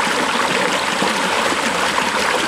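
River water flowing along a long channel toward rice fields in a Philippine village, a steady rushing, burbling stream noise, close and constant without pauses.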